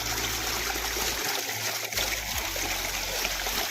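Warm borewell water pouring onto plants on a farm, a steady rushing splash that continues for the whole short stretch, near and fairly loud.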